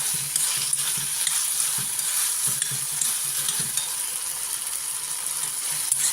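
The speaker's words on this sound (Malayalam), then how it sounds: "തക്കാളി, ഇഞ്ചി, കറിവേപ്പില. ഇനി ഇതും കൂടെ വഴലട്ടെ." Tomato, ginger and curry leaves sauté in a pan for a lemon chutney, giving a constant close sizzle broken by regular scraping strokes of a spoon.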